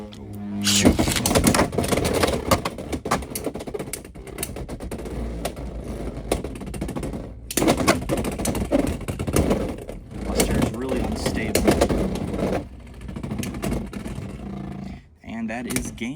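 Beyblade tops, Leon Crest and Phoenix Rudder, launched and clashing in a plastic stadium: a continuous loud grinding whirr with sharp collision clacks, briefly cut off before spinning resumes, with a voice talking over it.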